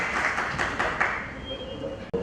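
An audience at a Hindi poetry event applauds, a dense wash of clapping with a few louder bursts that fades out, a voice talking over it near the end.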